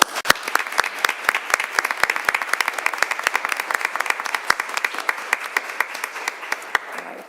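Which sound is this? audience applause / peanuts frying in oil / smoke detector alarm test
audience applause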